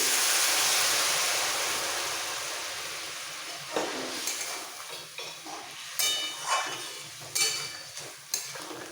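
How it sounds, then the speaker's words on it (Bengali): Hot water poured into sautéed vegetables in a pan for a shrimp and katoa stem curry, a steady rushing hiss that fades over several seconds, followed by scattered sizzling bubbles and faint pan clinks. "এরপর দিয়ে দিতে হবে জল অল্প করে গরম জল দিচ্ছি"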